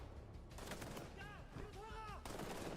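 Gunfire in a tactical shooter video game, with a couple of sharp reports and some ringing tonal effects heard faintly under a constant layer of game audio.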